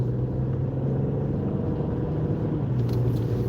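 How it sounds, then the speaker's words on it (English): Steady road traffic rumble heard from inside a moving car, a continuous low engine and tyre drone with a faint passing whoosh near the end and no talking. "And then here's all this traffic"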